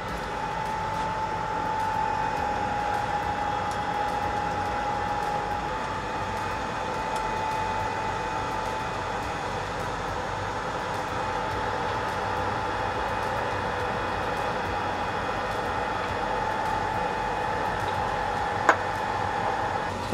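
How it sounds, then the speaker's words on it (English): BGA rework machine reflowing solder on a circuit board, a constant loud blowing hum with a faint steady tone that holds evenly throughout, ending in a single sharp click. "So that's what we're gonna be resolving right now by putting it on the rework machine."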